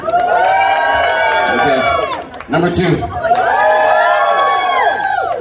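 A live studio audience cheers and whoops loudly around a contestant competition, with a short dip before the crowd noise swells again; a host speaks briefly over it.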